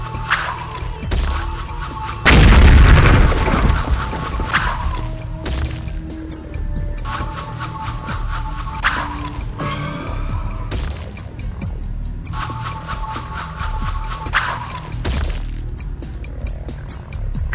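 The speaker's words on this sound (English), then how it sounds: "Hit all of the following targets with your sling to proceed." Sling-launched rocks striking targets in the Heavy Metal FAKK 2 game: a string of sharp whacks and cracks, one louder crashing burst early on, repeated impacts spaced over the stretch amid game ambience.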